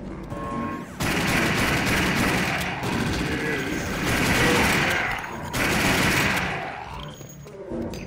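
Sustained automatic gunfire in the game Duke Nukem 3D Alien Armageddon, loud and dense in two long bursts separated by short gaps, with game music playing underneath.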